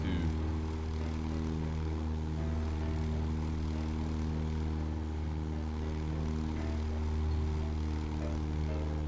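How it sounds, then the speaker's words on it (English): Steady propeller drone of a Cessna 172 single-engine plane in a flight simulator game, a continuous loud engine hum with harmonic tones holding level throughout, no voices. "Little flyby, swing around, and then we'll land."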